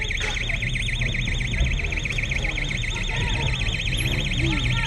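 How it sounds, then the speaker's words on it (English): A loud electronic alarm wails near a crime scene in London, its rising and falling siren tone cycling steadily and continuously over a background of traffic-like rumble and faint voices. "they suddenly heard a loud alarm coming from an area near them"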